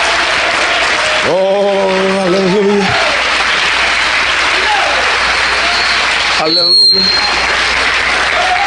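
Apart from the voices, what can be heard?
congregation applause in church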